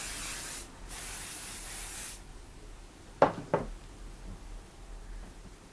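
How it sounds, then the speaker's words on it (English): Hairspray hisses onto crimped hair in a few steady bursts, close and fairly soft, followed by a couple of sharp knocks as the can is handled. "Just give it another spray."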